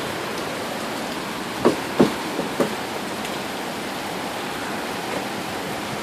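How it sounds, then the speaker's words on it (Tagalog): Heavy rain pours down steadily as a dense, continuous hiss, with a few brief knocks near the start and no voices over it. "It's raining real hard."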